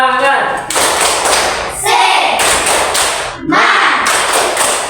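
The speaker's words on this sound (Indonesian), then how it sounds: "Mari kita beri tepuk semangat dulu." Classroom of students doing a rhythmic spirit clap in unison, loud and close, with bursts of synchronized clapping separated by short pauses and voices chanting along between the claps.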